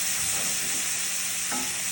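Steaks in a pan, finished with leftover whey: a loud, dense, continuous sizzle with a brief bubbling flare partway through, close and without voices.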